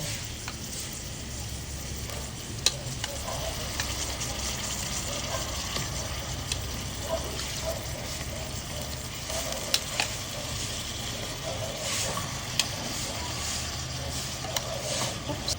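Chicken sautéing with large-cut ginger, garlic and onion in a pot for Filipino arroz caldo, giving a steady, continuous sizzle with occasional stirring clinks throughout, no talking.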